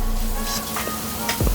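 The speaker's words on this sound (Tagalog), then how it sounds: "Ginigisa na po. Hanggang sa maging brown yung sibuyas." Onions sizzle and sauté in a hot pan, browning in oil, with a steady close crackle and a couple of brief stirring scrapes near the end.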